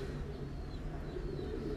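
Thai Titan meat pigeons cooing on a farm, a steady low murmur of several birds close by with soft continuous coos overlapping throughout.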